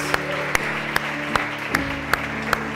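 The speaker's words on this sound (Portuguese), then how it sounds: "Vamos aplaudi-lo, igreja," A church congregation claps in time during an evening worship service, sharp rhythmic claps landing about twice a second over a bed of sustained music and general crowd noise.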